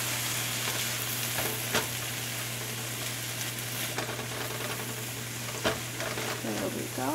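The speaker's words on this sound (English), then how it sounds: "I'm just going to mix this in here so the vegetables are more flavored as well" Vegetables with lemon juice, ginger and thyme sizzle steadily in a hot pan while a utensil stirs and scrapes through them, producing occasional clinks over the constant frying hiss.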